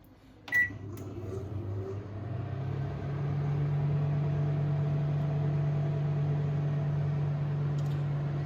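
An oven running on grill mode for grilled chicken opens with a sharp beep and a click, then settles into a steady electric hum that stays even and close for several seconds.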